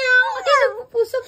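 A young child mimics a cat, giving a couple of high, wavering meow-like cries close to the microphone, followed by a shorter squeak.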